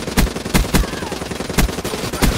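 Rapid gunfire from a weapon in Black Ops 3, sharp loud shots in quick bursts spaced through the stretch, with game ambience continuing between them.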